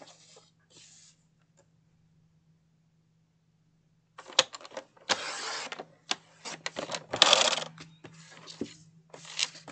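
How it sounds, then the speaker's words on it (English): A paper trimmer slices strips from an 8.5 by 11 sheet for card toppers, with short scraping cuts in irregular bursts after a quiet start, close and soft over a faint steady hum. "So the first thing we're going to do is cut 2 strips at 4 by 11"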